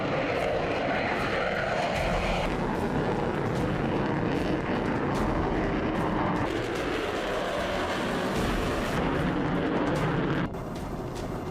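An F-35A fighter jet roars loudly and continuously, a dense broadband jet-engine rush that holds steady before dropping slightly near the end, with no voices over it.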